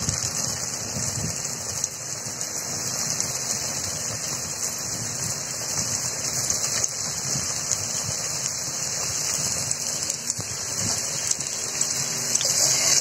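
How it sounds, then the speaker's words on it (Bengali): Samosas shallow-frying in a small amount of oil in a pan, giving a steady, dense sizzle and crackle that sounds almost like rain, continuous and fairly close throughout with no talking. "অল্প তেলে আমি ভেজে নিব।"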